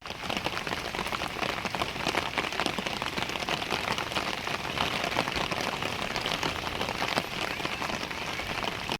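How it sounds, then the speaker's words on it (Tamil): Heavy monsoon downpour in Kinniya, Trincomalee during flooding, a dense steady roar of rain hammering surfaces, loud and continuous throughout. "25/11/2025 கடும் அடைமழை"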